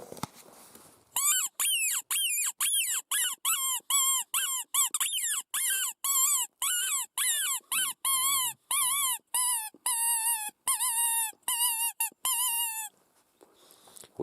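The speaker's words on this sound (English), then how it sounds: "I cut it off one of my dog's squeaky toys" A squeaker cut from a dog's squeaky toy, blown as a coyote call, gives about twenty-five loud, close, high-pitched squealing yelps in a steady rapid series, each rising then falling, with short gaps between.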